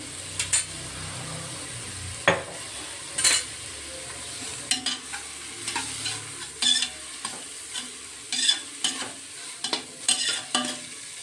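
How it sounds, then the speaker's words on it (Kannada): Spinach frying in a pan with ginger garlic paste for palak rice, stirred with a utensil: steady soft sizzling runs throughout, broken by repeated scraping clinks of the spoon against the pan, alone without talk. "ಇದಕ್ಕೆ ನಾನಿವಾಗ ಬಂದು ಶುಂಠಿ ಬೆಳ್ಳುಳ್ಳಿ ಪೇಸ್ಟ್ ಹಾಕ್ತಾಯಿದ್ದೀನಿ."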